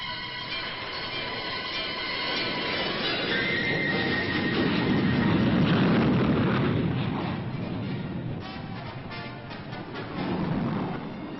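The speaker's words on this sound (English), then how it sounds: "Also present at all times during the Delawar exercise was the supersonic firepower of the supporting tactical fighters." Supersonic tactical fighter jets in a military exercise: a loud, rough roar with a rising whine swells to a peak midway and fades, then surges again near the end, heard alone without talk.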